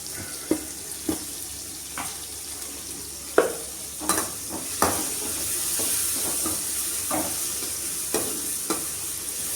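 Tomatoes sauté in a pan under a soft, low sizzle, while a spoon stirs and scrapes in repeated distinct strokes about once a second.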